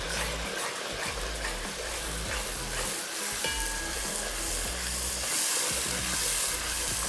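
Tomato puree, about 300 grams, sizzles and hisses loudly in a hot pan while being stirred, a dense steady frying crackle with scraping stirs throughout and no talk.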